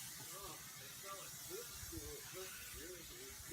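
A hair dryer blows steadily on curly, frizzy hair, a loud, continuous broadband hiss that fills the whole clip, with faint brushing and movement sounds beneath it.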